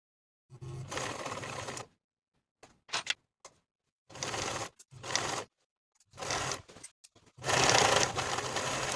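A sewing machine fitted with a zipper foot stitches a pants seam close to the zipper stitching, running in several separate bursts of steady mechanical whir with short pauses between them, with no talking.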